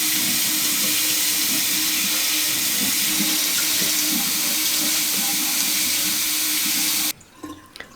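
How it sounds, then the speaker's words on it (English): Tap water runs hard and steady into a sink while paint is rinsed from a paintbrush, a loud continuous splashing rush that cuts off abruptly near the end, leaving a few faint handling sounds. "I'm washing off this paintbrush, but I think it looks so cool once you get water all over it"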